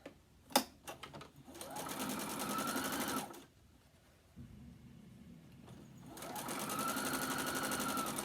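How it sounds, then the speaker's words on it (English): A sewing machine stitches mini quilt pieces together in short runs. It starts up with a few clicks, whirs steadily, stops, then runs again. Close and clear, with no talking. "I am stitching these together."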